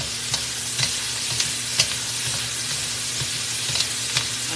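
Pork and vegetables stir-fry in a hot oiled skillet at high heat, a steady sizzle punctuated by regular scraping stirs and clacks, close and fairly quiet with no talking.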